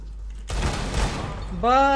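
Desert Eagle pistol fire in CS:GO: a sharp burst of gunfire cracks out after a short quiet, followed by a ringing metallic tone, with a voice speaking faintly underneath.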